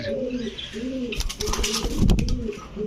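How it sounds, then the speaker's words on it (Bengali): Pakistani Jhakgola pigeons coo repeatedly in low, rolling phrases close by, with some rustling and a few sharp taps mixed in. "অরিজিনাল ঝাকগলা পাকিস্তানি কবুতর"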